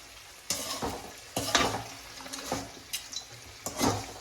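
Green chillies and onions frying in hot oil in a home kitchen, with a steady sizzle broken by several sharp bursts as a spoon stirs and scrapes the pan, close and fairly loud.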